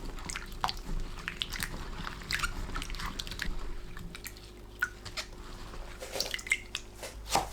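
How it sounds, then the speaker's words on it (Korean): Bite-size pieces of cut Chinese yam being rinsed in water make quiet, close drips and soft wet squishes in an irregular patter. "물에 헹굽니다."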